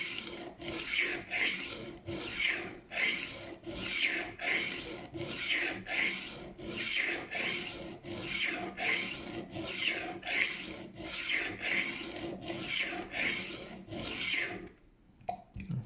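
A knife blade scrapes repeatedly along a Work Sharp rolling knife sharpener, making a rhythmic rasping stroke about every second, close and clear, with no talking, stopping just before the end.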